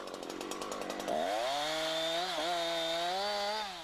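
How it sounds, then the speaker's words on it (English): A Husqvarna chainsaw, held lying on its side, cutting branches on the upper side of a felled trunk: a loud, close engine whine that jumps in pitch as it revs into the cut and holds steady, dipping briefly under load. "Branches on the upper side of the trunk can be cut with the saw lying on its side."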